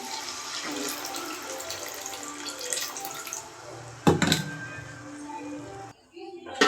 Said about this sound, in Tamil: புளி தண்ணி எல்லாம் ஊற்றி தேவையான அளவு தண்ணி ஊற்றியாச்சு.